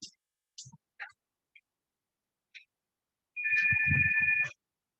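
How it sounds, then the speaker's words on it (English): A phone ringtone sounds once as a single steady electronic tone lasting about a second, after a few faint scattered clicks in an otherwise quiet room. "I have a phone call to answer, so if you could just wait for a minute or so."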